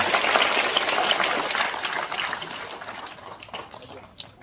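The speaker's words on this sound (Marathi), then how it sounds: "त्रिपाठी साहेबांसाठी आपण टाळ्या वाजून त्यांचं अभिनंदन करूया" An audience at a school event where students receive desks applauds an honored guest. The dense clapping starts strong and gradually fades away over a few seconds.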